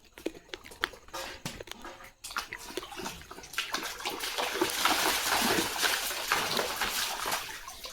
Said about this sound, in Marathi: स्वतःच्या अंगावर स्वतःच उडवायचं पाणी